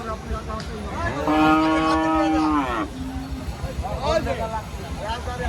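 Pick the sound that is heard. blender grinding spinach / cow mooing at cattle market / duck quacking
cow mooing at cattle market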